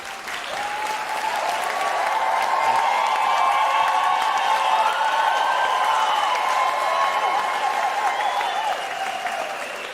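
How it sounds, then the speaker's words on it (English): Graduates at a university autumn graduation ceremony give a long, sustained round of applause, a full crowd of clapping that swells and stays loud throughout, with a faint tonal hum running beneath it. "give yourself a round of applause"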